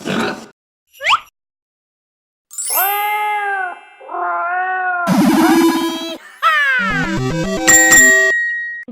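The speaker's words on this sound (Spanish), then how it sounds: "Gato." A cat meows a few times in a set of children's animal sounds, heard clearly amid bright chimes, dings and bell-like effects.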